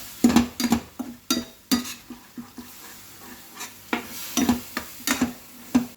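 A spoon stirs milk into a milk powder mixture in a pan for pedas, producing rhythmic bursts of scraping and clinking against the metal, about a dozen strokes, close and clear, with a faint sizzle underneath.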